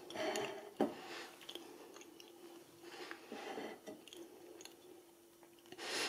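Someone chews a bite of moist Swedish chocolate cake close to the mic, soft, wet mastication sounds repeating in an irregular rhythm, with a faint steady hum underneath and no talking.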